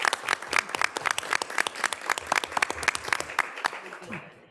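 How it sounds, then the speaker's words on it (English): Audience applause at a school board work session, a modest room of clappers producing distinct sharp claps at a brisk uneven rhythm that thins out and fades at the end, with some talk underneath. "we give her a huge round of applause"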